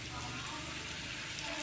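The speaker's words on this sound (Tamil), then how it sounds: "சூடான எண்ணெயில் நான் வந்து வெஜ்ஜஸ் எல்லாம் போடுறேன்." Potato wedges fry in hot oil, giving a loud, dense and continuous sizzle that crackles evenly throughout, heard close.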